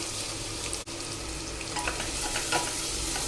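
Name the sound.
onions frying in mustard oil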